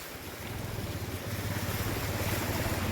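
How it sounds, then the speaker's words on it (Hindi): Loud floodwater rushing under a bridge roars continuously, a dense turbulent wash with a deep rumble underneath, close by and unbroken. "ये ब्रिज के अंदर इस तरह से पूरा पानी चल रहा है।"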